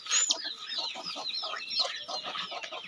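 Chickens on a poultry farm cluck and squawk in a dense, continuous chorus, with several birds calling at once close by and a few sharper high calls rising above the flock.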